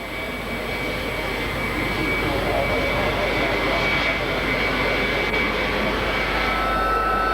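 Vintage and veteran aircraft, such as a Mustang and de Havilland Vampire, fly in an airshow display at Richmond Air Force Base, giving a loud, steady engine roar that holds throughout with crowd ambience underneath.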